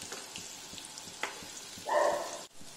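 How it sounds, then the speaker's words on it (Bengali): Banana flower koftas fry in hot oil, turned on both sides, giving a soft, steady sizzle with a brief louder bubbling burst near the end. "দুদিক উল্টে পাল্টে ভালো করে একটু ভেজে নিতে হবে"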